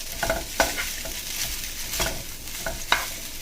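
Vegetable lo mein noodles are stir-fried in a wok with tongs, giving a steady sizzle broken by several sharp metallic clacks and scrapes of the tongs, close and without talk.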